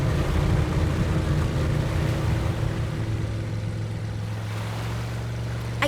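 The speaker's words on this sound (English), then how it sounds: "The waves are too strong." Strong ocean waves surge near rocks, a loud continuous roar of surf with low rumbling and wind noise throughout, no talking.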